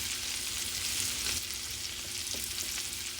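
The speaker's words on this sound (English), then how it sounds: "I'm not cooking the shrimp all the way through, but we are searing on both sides." Shrimp searing in a hot pan over medium-high heat, a steady bright sizzle and crackle of frying oil, close and continuous with no talking.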